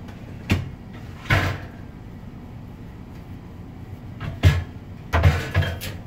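A shirt closet door opens and bumps inside a 2018 Newmar Dutch Star 4327 RV, giving several short wooden knocks and clunks spaced a second or so apart against a quiet room.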